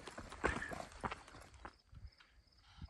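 Small horses, ponies, walk on the Appalachian Trail, hooves clip-clopping in an irregular walking rhythm, fairly faint and distant, with some background noise.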